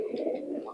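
High flyer pigeons in Bangladesh coo close by, a soft, continuous throaty warble that stays loud and steady throughout the short moment with no talking over it.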